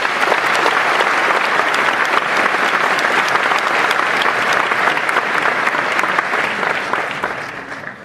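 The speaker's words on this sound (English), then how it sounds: "ladies and gentlemen, please, a round of applause for Jack Dorsey." Sustained, loud audience applause after a conference talk, with dense steady clapping from a large crowd that holds for several seconds and then begins to thin out near the end.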